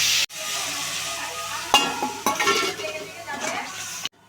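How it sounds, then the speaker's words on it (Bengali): Cauliflower being stirred through a spice masala in a pan for chili cauliflower, with a soft sizzle under irregular scraping and a few sharper clinks of utensil on metal, ending abruptly. "ফুলকপিগুলো দিয়েছি, একসঙ্গে একটু নেড়ে নিলাম।"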